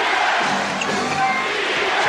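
Crowd of more than 17,000 at a 1991 NBA Finals game between the Chicago Bulls and Los Angeles Lakers, a steady loud roar filling the arena with faint bursts throughout.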